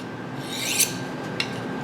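Steel knife blade drawn along a honing rod, two quick metallic rasping swipes, the first longer and brighter, the second short, close up over a faint steady background hum.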